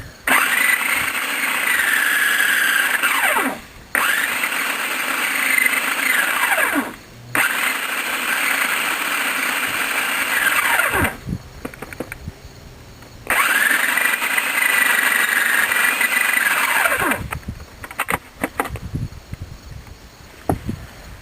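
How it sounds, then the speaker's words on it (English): A kitchen blender whirs loudly in several bursts as jute seed pods spin against the blade, each run starting with a rising whine and stopping abruptly, with brief pauses and rattling between. "I'm going to turn it on and off a few times just to spin these seed pods around so they drop down to hit the blade to break them up"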